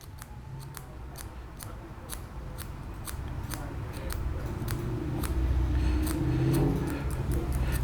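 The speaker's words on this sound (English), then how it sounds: "basically just sharpen it like a pencil" A wooden skewer is whittled to a point like a pencil, giving a steady series of quick, crisp scraping clicks at close range over a low background rumble.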